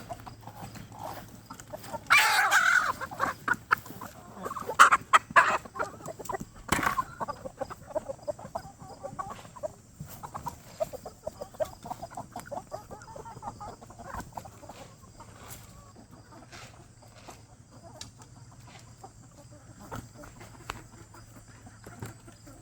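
Backyard chickens cluck and squawk in and around a coop at feeding time, with irregular bursts of clucking and a few louder calls over a steady hum.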